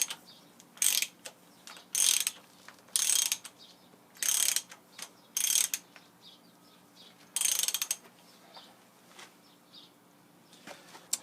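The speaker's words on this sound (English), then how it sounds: "we'll loosen up our gib screws here, or our gib adjustments here" A ratchet clicks in repeated short bursts while gib screws are taken out of a Rockford universal shaper planer, crisp close ratcheting strokes separated by pauses in a quiet shop.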